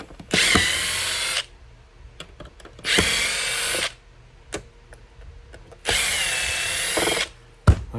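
A power drill backs screws out of the pickups on a cigar box guitar in three steady, high-pitched whirring bursts of about a second each, heard up close, with quiet ticks and clicks between them.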